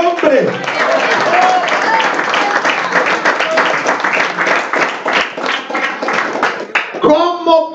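A church congregation bursts into loud, sustained applause, a dense clatter of hands carrying on for several seconds, with a voice speaking at the start and again as the clapping fades at the end.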